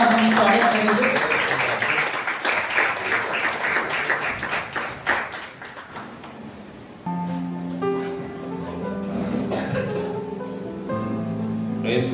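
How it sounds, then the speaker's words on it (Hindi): Church congregation at a Sunday Holy Communion service clapping loudly together, a dense burst of applause that thins out as music with held keyboard tones comes in over it. "आइए जोरदार ताली के द्वारा अपोस्तल धीरज सेवक से इनका हम स्वागत करेंगे।"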